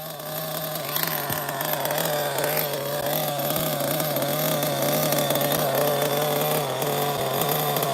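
A vintage Mugen nitro RC car engine idles steadily and running rich, a continuous buzzing drone with a low hum that holds an even level throughout, close and loud, with no talking.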